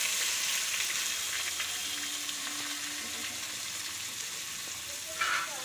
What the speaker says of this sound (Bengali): পেঁয়াজটা দিয়ে দাও।